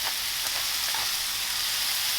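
Hamburger meat seasoned with salt and pepper sizzles steadily in a pan, a constant close crackling hiss with a few faint clicks and no voices.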